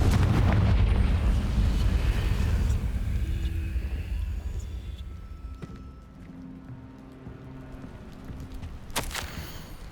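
A Confringo fire spell explodes in the Hogwarts Legacy video game. A heavy, booming blast opens the sound and then fades into a long rolling rumble, and a sharp crack comes near the end.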